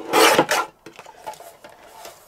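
Paper cardstock is cut down to size for a handmade card, a loud rasping slice up front followed by softer scraping and rustling handling sounds.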